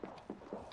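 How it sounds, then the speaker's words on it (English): Footsteps in an Apex Legends–style shooter match, three or four evenly spaced thudding steps over about a second, fairly close and clear with no talk over them. "I hear footsteps"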